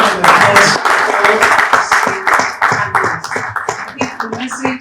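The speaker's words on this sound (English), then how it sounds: "Can we please give a round of applause?" An audience at a strategic finance summit gives a round of applause, many hands clapping in a close, busy patter that fades a little toward the end, with voices mixed in.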